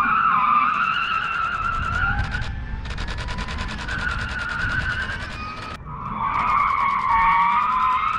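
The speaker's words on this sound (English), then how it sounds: "Ken did a like all-wheel drive drift in the Mach-E, and it was pretty cool." A Ford Mustang Mach-E with all-wheel drive drifting, its tires giving a sustained, loud skidding squeal that wavers and shifts pitch over several seconds, with no talk.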